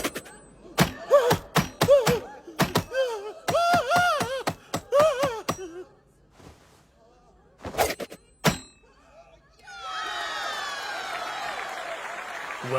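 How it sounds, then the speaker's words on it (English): Knives thrown at a target in a dubbed anime circus act land with a run of sharp thunks and thuds, mixed with brief vocal sounds, then give way to a swell of crowd-like noise near the end. "Every blade that leaves his hand is thrown with pinpoint accuracy."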